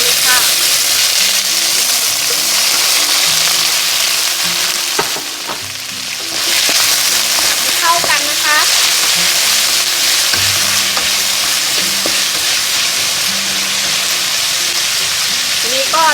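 Vegetables and shiitake mushrooms stir-frying in a hot pan for vegetarian fried rice, with a loud, steady sizzle and intermittent scraping and stirring throughout.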